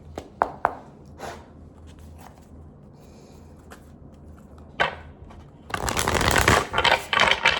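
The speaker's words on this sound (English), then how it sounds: "We're going to quickly shuffle our cards and say our prayer" Tarot cards are shuffled by hand in a few light riffles and taps, then a longer, louder burst of rapid shuffling near the end, close up with no talking.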